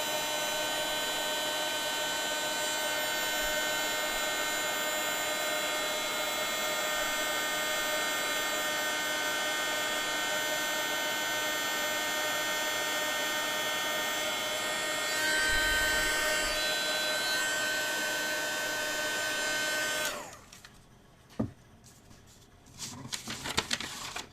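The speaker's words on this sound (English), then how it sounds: "warm up your heat tool, and then heat it up until your powder is melted" A heat tool blows steadily to melt embossing powder, a loud continuous whirring hum with a whiny tone that cuts off near the end, followed by faint handling noises.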